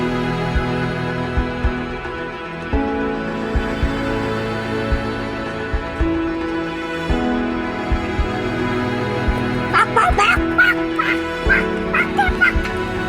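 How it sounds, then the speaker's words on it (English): Wild chickens in Cathedral Grove forest on Vancouver Island, clucking and calling loudly and repeatedly over a steady background hum, growing busier with sharp squawks toward the end. "It's the wild chicken of this Cathedral Grove."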